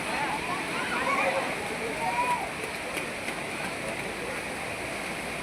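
Heavy monsoon rain and floodwater in Mumbai make a steady, dense rushing hiss that stays constant throughout, with a person talking over it.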